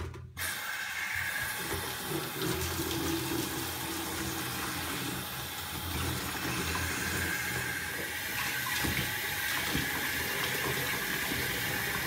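Tap water runs steadily and close by while charcoal is rinsed for a rainwater filter, a continuous broadband rush lasting the whole stretch.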